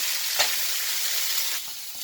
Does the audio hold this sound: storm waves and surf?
no